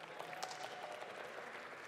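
A church congregation applauding at an Easter Sunday service, a brief, steady wash of many hands clapping, moderately distant and even, without talk.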